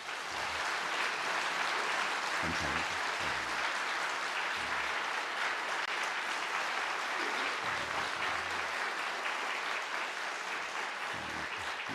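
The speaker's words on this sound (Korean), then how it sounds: "박수 한번 하겠습니다" A church congregation applauds to welcome a newly installed pastor at his installation service, with sustained, dense clapping filling the hall for a long stretch and a few brief voices surfacing within it.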